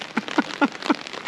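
Rain falls onto an umbrella held overhead while filming outdoors in Füssen, with four distinct, close drops tapping on the fabric in an uneven rhythm over a soft background patter.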